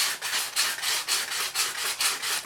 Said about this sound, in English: Now we need to come along and sand this down a little bit to make that look a little bit pretty.